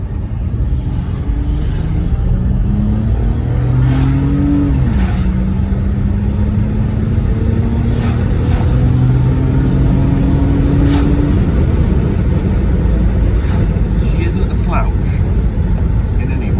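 A Volvo 960 limousine, a former funeral car, accelerates in sport mode in the rain, its engine droning and rising in pitch through gear changes, loud and steady with wind and road noise throughout.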